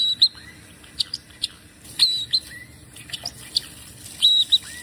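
A baby bird gives thin, high chirps and short upward-sweeping peeps in scattered bursts, several isolated calls spaced irregularly over a faint, steady low background noise.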